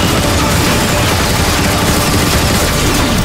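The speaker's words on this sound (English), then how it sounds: "Oh, I'm getting shot." Constant dense gunfire from Decepticon enemies striking the player in Transformers: Fall of Cybertron, loud and unbroken, a sustained barrage with booming low impacts filling the whole stretch and no voices.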